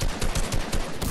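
Gunfire bursts in an online arena shooter match, a rapid string of dense, loud shots repeating steadily through the moment with no pause.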